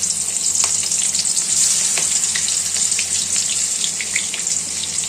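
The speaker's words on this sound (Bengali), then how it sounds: "তেল গরম হয়ে গেছে, দিয়ে দিই।" Pieces of catla fish frying in hot oil in a home kitchen, a loud, steady close-up sizzle with crackling spatters that carries on without a break and with no talking.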